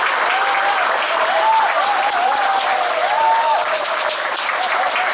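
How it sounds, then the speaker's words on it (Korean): Sustained, loud applause from a crowd at a press conference for a Seoul education superintendent candidate, an even wash of clapping with a faint tonal sound weaving underneath. "여러분 힘찬 박수 부탁드리겠습니다."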